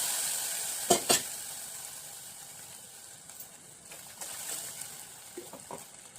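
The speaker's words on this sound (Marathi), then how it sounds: "यात आपण दही व डाळीचे पीठ एकात मिश्रण केले ते आता फोडणी घालूया" Hot tempering of curry leaves, green chilli and asafoetida poured into a curd and gram flour mixture for kadhi: two sharp clinks near the start, then a steady soft sizzle with scattered light taps.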